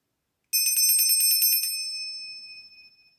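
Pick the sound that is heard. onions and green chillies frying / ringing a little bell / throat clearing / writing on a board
ringing a little bell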